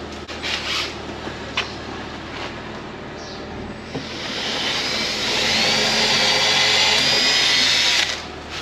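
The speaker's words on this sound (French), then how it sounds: "Il n'y a plus qu'à percer." A power drill bores holes in a car's boot during an air suspension install, starting with short light whirs and knocks before a long, loud, steady high-pitched drilling run close by.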